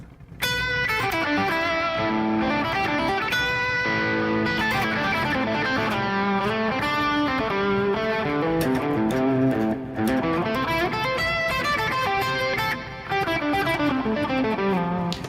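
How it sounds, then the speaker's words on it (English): A clean electric guitar plays a flowing melodic line through a twin delay with no reverb, each note trailed by distinct repeating echoes that blur into a steady shimmering wash. "I'm not using any reverb. I'm using a delay"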